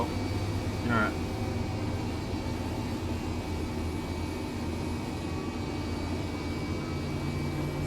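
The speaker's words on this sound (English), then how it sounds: "So engine 1 is going." An Airbus H135 helicopter engine spools up in the flight simulator MSFS2020, a steady whining, humming drone with a brief rising chirp near the start, heard continuously at moderate level.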